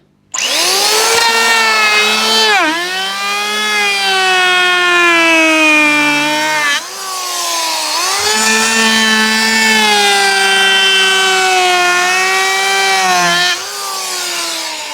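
An electric hand planer shaves small wooden bars for a little lake footbridge. Its loud, high motor whine rises and falls through two long passes, with a brief dip between them and no talking.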